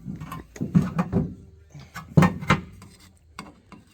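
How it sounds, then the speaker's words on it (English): Screwdriver prying an old seal off the tail housing of a 1979 Chevy C10 transmission: a few close scraping, knocking metal-on-metal bursts in two clusters, separated by a short pause. "So to get that off, you just take a screwdriver"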